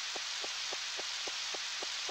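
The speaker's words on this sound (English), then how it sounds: "Well, since it's raining, we might as well go visit the girls." Steady rain falls in the video game Harvest Moon 64, a constant bright hiss with a soft, regular ticking pulse repeating about every quarter second.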